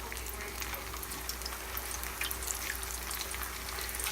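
Tostones fry in hot canola oil with a steady, dense sizzle and crackle, close and continuous, with a low hum underneath.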